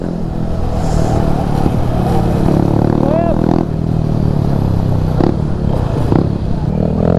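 A Kawasaki KLX 230 dirt bike is ridden with its engine droning and revving beneath loud, close talking, with some clattering and wind rumble.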